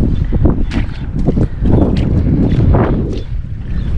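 Strong sea wind buffets the microphone in a steady, loud, low roar with gusting swells throughout, heard alone with no talk.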